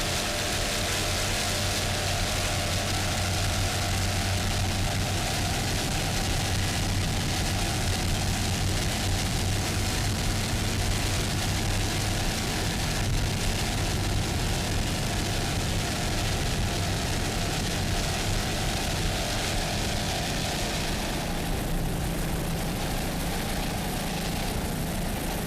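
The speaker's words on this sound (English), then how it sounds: "driver, and Paul Whittier, the throttle man, on board In Contempt, 36-foot skater" Roaring engines of a Mercury-powered 36-foot Skater racing powerboat at an offshore race in St. Petersburg, a loud, steady, unbroken drone that fills the whole stretch.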